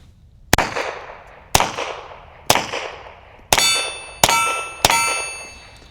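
Suppressed Walther PPK SD .32 ACP pistol fired into dirt and at steel, six sharp reports spaced about a second apart, the last three ringing metallic off the steel, close and loud.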